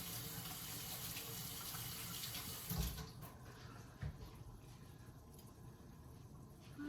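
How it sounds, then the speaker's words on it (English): A kitchen tap runs steadily while hands are washed beneath it, a close, constant splashing rush that thins out partway through as the flow changes, with a few soft knocks. "Wash my hands first."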